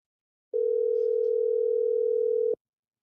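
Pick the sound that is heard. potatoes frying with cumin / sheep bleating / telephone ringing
telephone ringing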